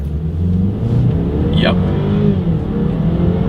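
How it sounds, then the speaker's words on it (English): A 2022 BMW X3 30i accelerating from 0 to 60 in sport driving mode gives a steady, loud engine drone heard from inside the cabin, while a voice speaks briefly over it. "here's that 0 to 60 run in sport driving mode"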